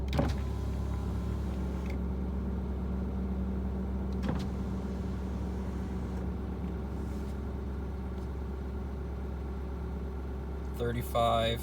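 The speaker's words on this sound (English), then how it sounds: "There's the cooling fan." The cooling fan of a 6.7-liter Powerstroke diesel truck engine gives a loud, steady mechanical roar with a low drone throughout, close by; a few brief clicks punctuate it.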